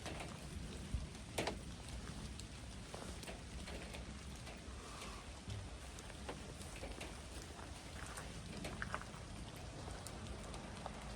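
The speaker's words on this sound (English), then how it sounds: "The rain seemed to calm down a little bit" Steady rain falls outdoors on public land in Massachusetts during archery deer season, a continuous even patter of drops on surfaces with occasional louder splatters and no talking.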